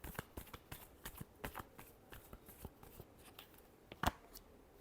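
Tarot cards being shuffled, with a quick run of soft riffling slaps and flicks followed by a sharper snap near the end, close and fairly quiet, with no talking.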